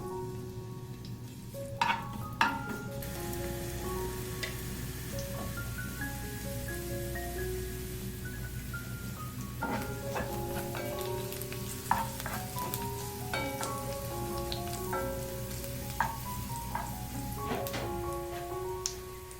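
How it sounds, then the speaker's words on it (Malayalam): Chopped garlic sizzles steadily in hot butter or coconut oil in a pan for a mixed vegetable stir fry, a continuous frying crackle with occasional louder pops and stirring clatter, close and moderate in level, with no talking. "ബട്ടറോ അല്ലെങ്കിൽ നമുക്ക് അനുവദിച്ച വെളിച്ചെണ്ണയോ ചൂടായ പാനിലേക്ക് ഒഴിച്ചു കൊടുക്കാം"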